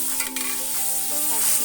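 Ground turmeric, Kashmiri chilli powder and cumin powder sizzling in hot oil with white cumin, stirred with a spatula that scrapes and clinks against the pan, a close continuous frying hiss.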